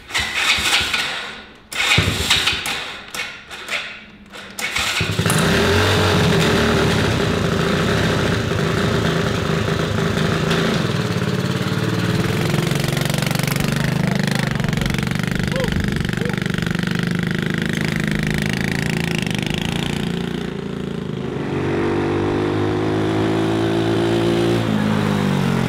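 A mini 125cc ATV fitted with a performance carburetor cranks over with a few rough bursts, then catches and settles into a loud, steady, buzzing idle and run that continues close by for the rest of the span.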